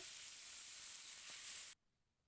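Mixed ground spices hitting hot oil, a steady bright sizzling hiss that holds evenly, then cuts off abruptly into near silence, close and loud with no talking.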